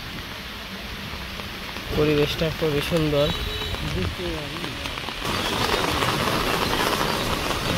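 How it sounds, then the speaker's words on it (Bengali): Heavy rain pours steadily over a village market area, a constant broadband hiss that swells in the second half, with someone talking over it. "আমরা যাওয়ার আগে প্রচুর পরিমাণ বৃষ্টি শুরু হয়ে গেছে"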